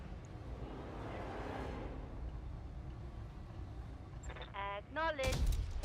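Mech weapons in BattleTech pound a Catapult mech, a steady rumbling barrage of heavy fire ending in a sharp, loud burst of whooshing and impacts near the end.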